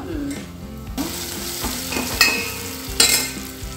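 Turmeric goes into a sizzling tempering in a pan for South Indian sambar, with a steady crackling fry and a few sharp spatters and stirring clinks, no talk.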